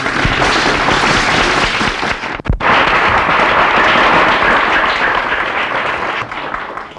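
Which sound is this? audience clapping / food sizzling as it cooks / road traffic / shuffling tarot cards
audience clapping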